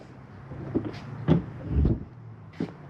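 Door on a 2025 Intech Sol Dusk camper trailer swung open and held by a magnet: a few soft knocks and a muffled thump near the microphone, with no talking.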